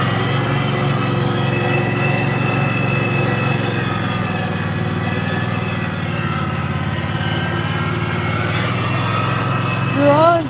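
A lawn mower engine runs steadily outdoors on a freezing day in Goulburn, Australia, making a close, continuous, loud mechanical drone that never stops, with a brief shift in tone near the end.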